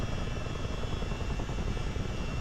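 Steady, unbroken rotor and engine roar from a CH-47D Chinook twin-rotor helicopter in a flight game, looping wide for a runway approach; a dense low drone held at constant loudness throughout with no voices.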